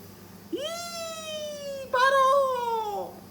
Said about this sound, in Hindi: ये है मेरी बिल्ली पारो